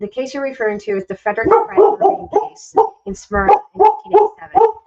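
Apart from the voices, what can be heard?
dog barking loudly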